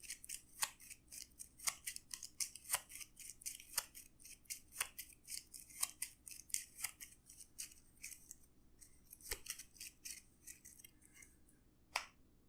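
Playing cards from the Arkham Horror card game are shuffled by hand on a table, producing a long series of crisp, rhythmic clicks and snaps that taper off near the end.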